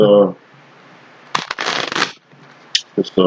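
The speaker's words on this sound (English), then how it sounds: "I'm just gonna shuffle the crap out these" A deck of tarot cards is shuffled up close, a crisp riffling burst lasting under a second followed by lighter card taps, with a voice speaking briefly before and after.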